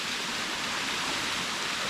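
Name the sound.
waterfall on Koh Samui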